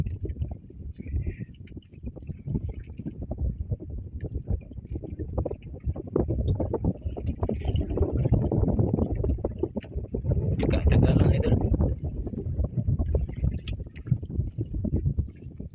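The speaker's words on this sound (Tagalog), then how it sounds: "Grabe, lakas-lakas pa rin hangin eh." Strong wind buffets the microphone in a low, continuous rumble, with someone speaking briefly over it.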